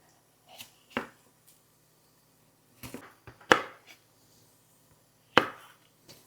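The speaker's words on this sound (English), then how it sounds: "Okay, just going to kind of leave them in bigger pieces because they're going to cook down." A knife chops bell peppers and onion into large pieces on a cutting board for meatball subs. About half a dozen sharp, separate thuds land close by at irregular intervals, with quiet gaps between them and no talking.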